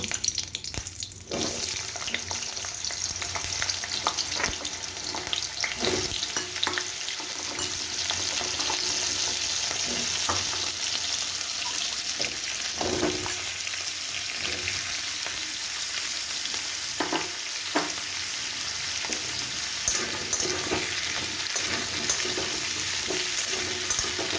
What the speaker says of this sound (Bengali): আমি তেলে একটা কাঁচা লঙ্কা ফোড়ন দিয়ে আলুগুলো দিয়ে দিচ্ছি